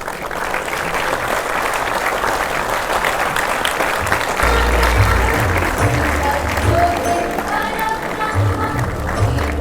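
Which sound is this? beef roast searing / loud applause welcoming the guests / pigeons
loud applause welcoming the guests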